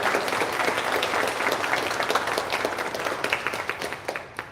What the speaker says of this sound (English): So a round of applause for Chef Stecker.